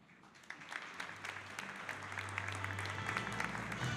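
Audience clapping for honored everyday heroes on stage at a hero luncheon, a steady applause swelling gradually over several seconds in a large room.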